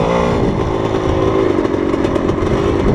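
Vehicle engine labouring uphill in second gear with an auto clutch, a loud, close, steady drone that strains continuously with no shifts or pauses.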